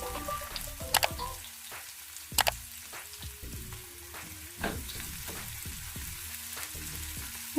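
Onions, ginger and green chillies fry in a pan for Telugu-style minapappu dal, giving a steady close sizzle broken by several sharp clinks and scrapes of a spoon stirring against the metal.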